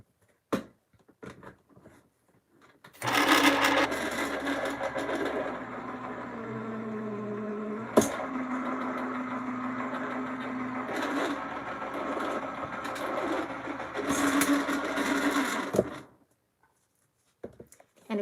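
A die cut machine runs steadily for about thirteen seconds as card is cut for a floral window card, a smooth motorized whirring hum with a slight pitch shift midway, preceded and followed by soft handling clicks in a quiet room.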